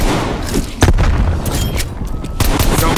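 A frag grenade blast in Call of Duty: Black Ops Cold War Zombies on the Mauer der Toten map: loud booming bursts among continuous gunfire and game noise, dense and close throughout.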